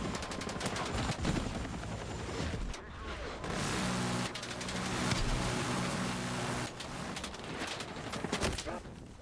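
Video game gunfire during a Battlefield 6 match, dense automatic bursts and rapid shots rattling almost continuously, loud and close, with a brief lull near the three-second mark.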